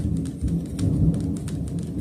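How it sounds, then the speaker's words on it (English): Heavy rain from a thunderstorm outside pours steadily with a deep low rumble of thunder underneath, continuous and fairly loud, heard from indoors with no talking. "It is like storming crazily."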